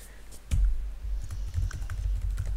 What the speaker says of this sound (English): Let's see if I can use the arrow keys.